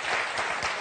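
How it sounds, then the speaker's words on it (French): Studio audience applause on a French TV game show, a dense, steady wash of clapping filling the whole short moment with no voices over it. "On vous applaudit très fort."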